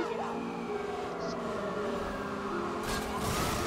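A police car in a video game drives with a steady engine drone and tire noise, some skidding, and a brief rise near the end, heard close and continuous.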